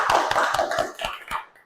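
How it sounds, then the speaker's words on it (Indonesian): Applause in a seventh-grade classroom for the first presentation group, six or seven distinct claps in a quick even rhythm, close and fairly loud, fading out at the end. "silakan beri tepuk tangan untuk kelompok 1"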